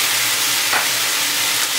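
Bacon frying in a frying pan, a loud, continuous crackling sizzle heard up close with no talking.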